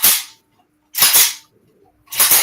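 An AK underfolder rifle's magazine is handled up close, giving three sharp, loud metallic clacks spaced about a second apart, each ringing briefly before silence.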